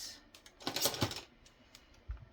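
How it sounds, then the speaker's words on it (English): Scissors snip through paper while a junk journal pocket is being made, giving a short burst of crisp, close cutting sounds followed by a few faint rustles and a soft thump. "And take my scissors."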